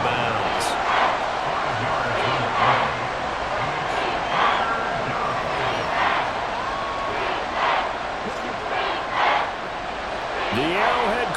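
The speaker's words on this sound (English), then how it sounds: "The Arrowhead crowd in full roar." A packed Arrowhead Stadium crowd roars steadily throughout an NFL playoff game between the Dolphins and Chiefs, a loud sustained swell of cheering, with a commentator talking over it.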